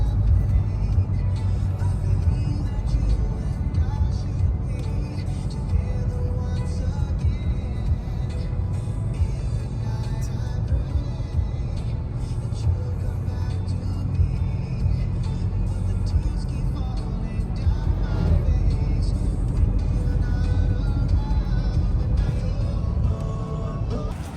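Road traffic with big trucks passing, a loud, steady, low engine and tyre rumble that continues without a break, with no talking.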